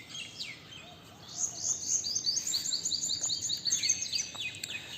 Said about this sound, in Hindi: आप लोगों को पीछे से परिंदों की क्या कहते हैं, चहचहाने की आवाज़ें आ रही होंगी.